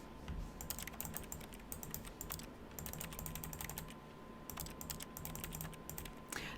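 Keyboard typing from The Stanley Parable video game: quiet, rapid clusters of key clicks in several bursts with brief pauses, over a low steady background hum.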